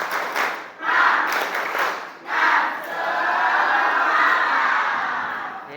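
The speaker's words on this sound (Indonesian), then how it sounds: "coba tepuk semangat" Students in a classroom perform a rhythmic clapping chant, with bursts of group clapping and shouting that swell into a sustained crowd cheer.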